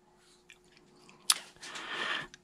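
Close, wet chewing of Monthong Seedless durian: a sharp bite followed by soft squishy mastication, fairly quiet and without speech.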